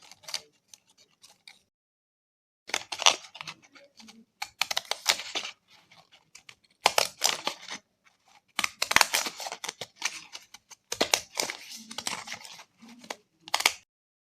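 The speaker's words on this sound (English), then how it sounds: "And then we're going to use the zigzag scissors" Zigzag craft scissors cutting through vellum paper, repeated crisp snipping and crunching bursts in irregular clusters separated by quiet pauses, close and clear with no talking.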